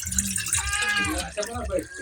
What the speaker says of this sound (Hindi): पानी हम अंदाज अनुसार डाल रहे हैं